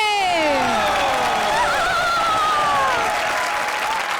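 A studio audience at a comedy show applauds and cheers for the horror-themed comedy pairs, a steady loud wash of clapping with whoops, while sweeping musical tones rise and glide over it.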